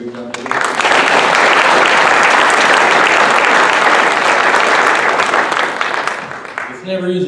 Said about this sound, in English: Can we give a round of applause for the ASB officers who put a great job today?